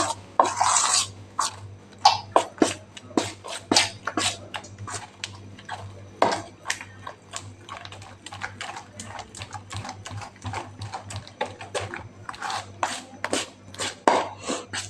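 Batter for batata vada being mixed by hand while water is added little by little, giving a fast, steady stream of sharp tapping and slapping strokes against a bowl, close up.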